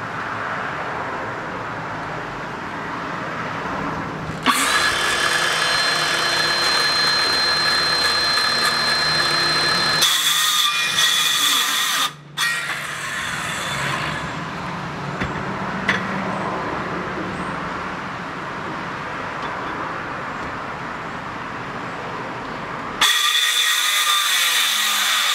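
Power saw cutting through a deck board next to an upright post, its loud steady whine running for several seconds, cutting off briefly, then resuming in bursts before a final stretch.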